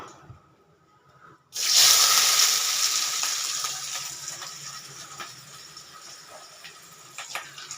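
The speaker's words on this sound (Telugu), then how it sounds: "వేయించిన తర్వాత ఉల్లిపాయ ముక్కలు" Onion pieces hit hot oil with cumin already toasted in the pan, setting off a sudden loud hiss that settles into a steady, close sizzle of frying.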